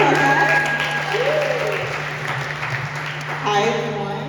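Audience applause welcoming Rochelle at a Crypto Babes event in Toronto, steady clapping across the room with a constant hum underneath and a few voices and whoops rising over it.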